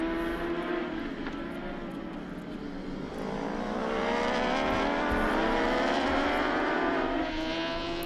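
Superbike engines roar loud and steady at Winton Raceway in Australia during an Australasian Superbikes race, a continuous engine drone with rising revs that masks any crash impact; no talk.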